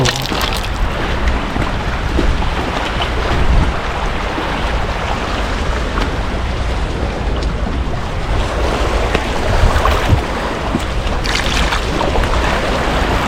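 Sea waves at a beach near Laem Chabang hill wash and roar continuously, loud and close, mixed with gusting wind across the whole stretch.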